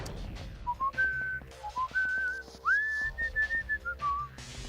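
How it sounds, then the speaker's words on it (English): A person whistles a tune from the Zelda games, a clear, fairly close melodic line of short phrases with brief pauses over faint game-like background sounds. "Now you got me whistling Zelda."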